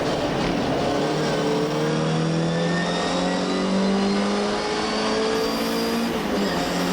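MGB historic race car on the Snetterton 300 circuit, its engine snarling at high revs then dropping through the gears in steady downshifts, a loud continuous close-up roar with falling and rising pitch sweeps.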